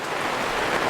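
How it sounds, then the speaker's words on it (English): Rain falls steadily as an even, close hiss of dense patter, with nothing else heard over it. "down it comes, the rain"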